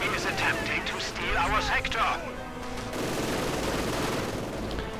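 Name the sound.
rifle grenades and gunfire in video game Company of Heroes 2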